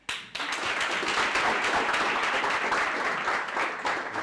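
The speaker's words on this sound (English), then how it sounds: "Another round of applause, guys." A crowd at a breakfast talk breaks into steady, dense applause that starts abruptly and holds at an even level throughout, a continuous wash of many hands clapping together with no voices standing out.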